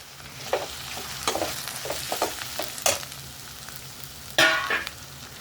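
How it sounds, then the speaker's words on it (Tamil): Chopped tomatoes sizzle and sauté in a pan with steady frying hiss, broken by occasional stirring scrapes and a louder clatter near the end. "இப்போ இதில் மீடியம் சைஸ் தக்காளி 2 நறுக்கியிருக்கேன். இது சேர்த்து நல்லா வதக்கிக்கலாம்."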